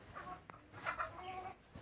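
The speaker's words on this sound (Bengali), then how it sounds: "দেখেন মুরগিগুলো কিভাবে খাচ্ছে।" Farmyard chickens cluck softly while feeding, a few short calls rising over a quiet background, fairly close.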